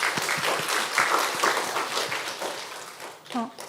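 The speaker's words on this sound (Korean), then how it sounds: "우리 박민서 청년 한번 격려의 박수 한번 해주시기 바랍니다." Encouraging applause from a church congregation during a Sunday worship service, a dense patter of clapping with a few distinct sharp claps, and a voice briefly heard near the end.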